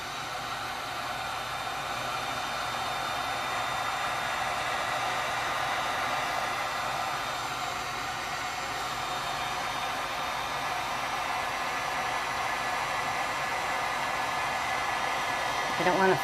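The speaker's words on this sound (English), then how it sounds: "So, turn on my heat gun again. Turn up my fan." A heat gun blows hot air over a tumbler with a steady, moderate whooshing hiss and a faint high whine that runs unbroken throughout.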